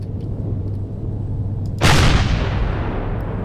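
Gunfire from small guns in the space survival game Empyrion: a low steady rumble, then one loud sharp blast with a long decaying tail, no talking.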